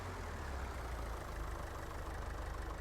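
A tractor engine idles in Farming Simulator 22, a steady low droning hum holding even and unbroken throughout with no other sounds over it.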